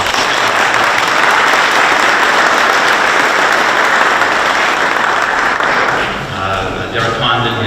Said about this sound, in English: I would like for a round of applause for the scouts